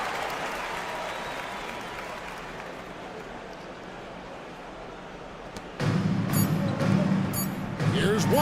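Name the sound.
home crowd cheering in a basketball video game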